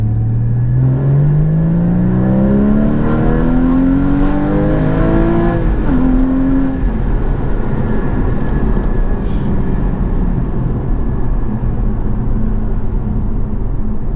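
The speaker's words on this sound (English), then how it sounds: "so you can see and hear this engine screaming." A Porsche Cayman 981 GT4 engine revs hard and loud, its pitch climbing steadily for several seconds before dropping, then a steady roaring drone continues close by.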